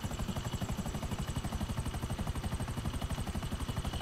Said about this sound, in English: I'm going to steal this helicopter.